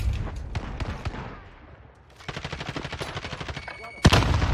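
Rapid automatic gunfire in a first-person shooter match, Kilo rifle mentioned: scattered shots, then a sustained rhythmic burst of fire and a loud sharp blast near the end, moderately faint.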